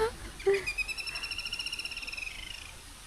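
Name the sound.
bird calling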